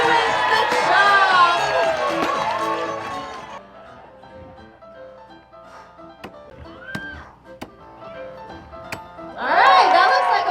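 A crowd cheers and shouts for lumberjacks in a chopping contest at Grouse Mountain, Vancouver. The cheering is loud at the start, then drops away while sharp axe thunks land one by one, and it swells again at the end.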